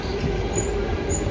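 Class 377 electric train pulling out of a siding at West Worthing, giving a brief steady rumble of wheels on rail with faint high squeals, close by.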